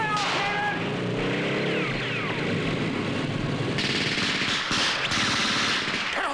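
A machine gun rattles in loud, rapid bursts during a Great Patriotic War battle scene in a war film, the firing continuous and dense over other battle noise throughout.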